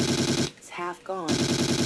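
Two quick shots from a tranquilizer pistol in the jungle setting of the video game Trespasser, separated by a brief gap, with someone speaking between them over a dense, rapidly pulsing background.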